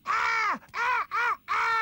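Four loud, harmonic bird calls from a cartoon, each a rising-then-falling squawk like a crow's caw, delivered in quick succession with short gaps and no talk.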